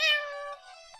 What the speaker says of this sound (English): Here's your meow.